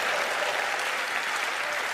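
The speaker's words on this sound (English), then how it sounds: "Give her a huge round of applause." A theater audience at a televised magic show claps for a volunteer coming up on stage, a dense, even wash of applause filling the room without pause.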